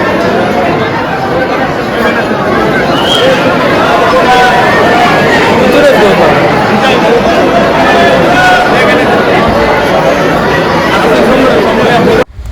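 A large crowd chatters loudly and continuously at the Akkalkot Swami Samarth temple during Datta Jayanti. Dense overlapping voices form a steady babble that cuts off abruptly at the end.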